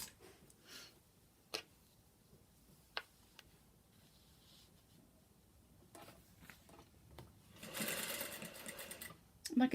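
A home sewing machine stitches fabric-covered welt cord with a soft whirring run and intermittent clicks, faint and close, alongside occasional quiet talk.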